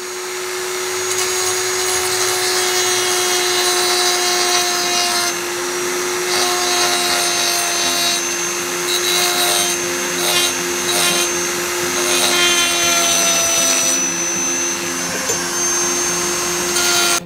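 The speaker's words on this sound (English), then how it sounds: "And we're going to use the Dremel." A Dremel rotary tool grinds steadily into a wooden needlefish lure, a continuous close, loud whine with shifting pitch as the bit bears on the wood.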